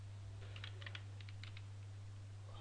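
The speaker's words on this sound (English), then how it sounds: "let me open the Hadoop command and type" Keys on a computer keyboard tapped out as a command is entered on a Windows 7 machine, a short run of faint clicks over a steady low electrical hum.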